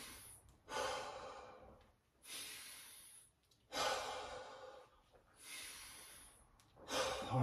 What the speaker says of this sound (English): So we're gonna take 3 deep breaths.